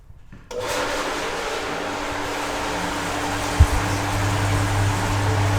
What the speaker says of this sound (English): if I turn the pump on